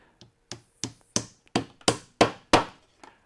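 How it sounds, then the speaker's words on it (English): Eight sharp metallic taps from a small Japanese hammer, struck one after another at a steady pace, each ringing briefly, close up with no talking. "So then I'm going to use a smaller hammer. This is a little Japanese hammer."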